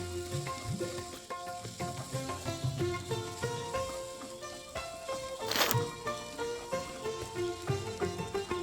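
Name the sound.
onions sizzling as they fry in a pan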